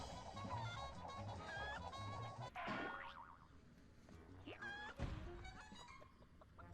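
Cartoon chicken clucks and a springy boing in the Ed, Edd n Eddy PS2 video game, with bright jumping and thwacking effects over a busy game soundscape, fairly quiet overall.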